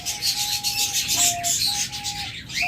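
Caged birds in a bird shop, a dense layer of chirps and twittering with thin sustained whistles running through it, fairly close and continuous.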